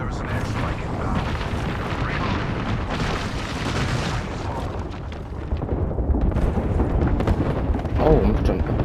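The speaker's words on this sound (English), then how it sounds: "There's an airstrike inbound." Heavy booming blasts of a video game airstrike roll on continuously beneath gunfire-like cracks and a dense battle din, with players talking over the noise.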